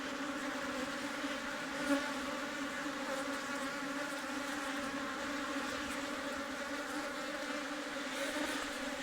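Honeybees buzz continuously around a swarm cluster near a hive in a merged colony, a dense steady drone close by with no talk.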